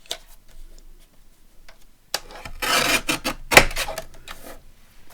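A craft paper page for a wraparound pocket page is trimmed to lower its height: a quiet start, then a close, dry rasping cut of a couple of seconds with a sharp snip near the end.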